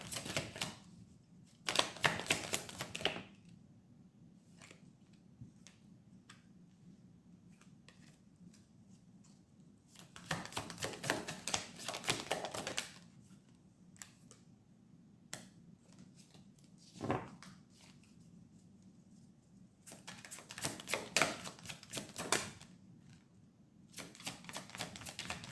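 Tarot cards shuffled and drawn by hand, heard as three separate bursts of rapid papery riffling and snapping with quieter faint handling between them.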